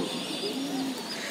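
Pigeons coo softly in a loft where high-flying birds are kept, a low murmuring call rising briefly over steady background hiss.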